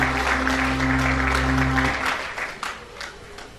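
An audience at a charity event claps together in a dense, broadband patter, with a low electrical hum underneath at first, and the applause then thins out into scattered claps.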